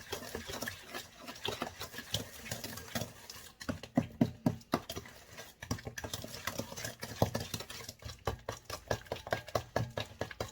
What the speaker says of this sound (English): it still can be mixed very well with a spoon